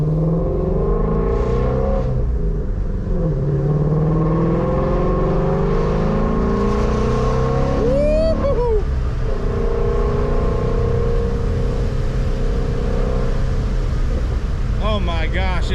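A 2019 Shelby GT350 Mustang engine hums and swells through gentle acceleration on a test drive over wet roads, steady and close inside the cabin, with people talking over it.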